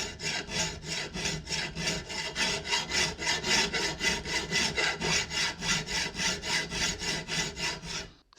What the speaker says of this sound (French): Et on lime.